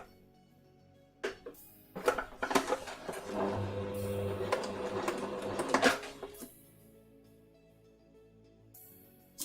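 A domestic sewing machine stitches a shirt placket on a pin-tuck shirt in a quiet room, with a short buzzing start, then a sustained whirring run of about four seconds that stops abruptly, and no talking.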